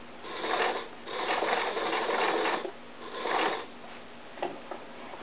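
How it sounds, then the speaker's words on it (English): Sewing machine stitching in the ditch along a corset seam, a close, steady mechanical whirring in several sustained runs with short pauses between, ending in a few brief bursts. "So you're just gonna stitch in the ditch."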